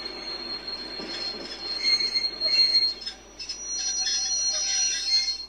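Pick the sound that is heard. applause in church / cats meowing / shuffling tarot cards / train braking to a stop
train braking to a stop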